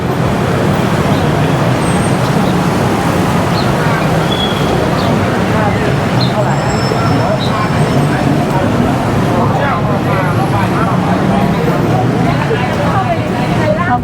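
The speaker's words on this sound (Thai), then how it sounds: "รถติดอีกแล้วมาติดจุดนี้อีก" Dense road traffic in a jam in Thailand forms a loud, continuous roar of engines and tyres, with a low rumble and occasional higher whines, and voices murmuring underneath throughout.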